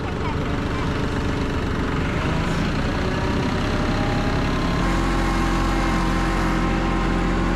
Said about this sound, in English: It's kind of nice riding the tractor not having to do anything.